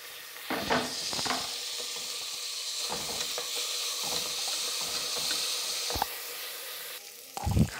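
Small chopped tomatoes hit hot oil and sizzle steadily while being sautéed for a mutton curry, with a few louder stirring knocks and scrapes at the start and end.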